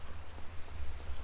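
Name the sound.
rain falling in the video game Minecraft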